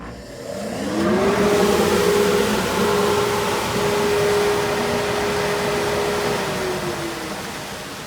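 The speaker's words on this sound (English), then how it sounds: "So I've got the dust collector hooked up to that." Harbor Freight dust collector in a workshop switched on by remote, its motor spinning up with a rising whine into a loud steady roar and hum that holds, then begins winding down near the end, no voices.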